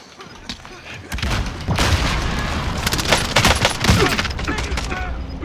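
Rapid gunfire from a video game shooter, dense bursts and booming shots layered over a steady battle din, with players talking over it.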